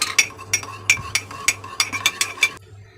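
A spoon briskly stirs red food colouring into a little water in a small cup, giving about a dozen quick, bright clinks against the sides in a steady close rhythm before stopping.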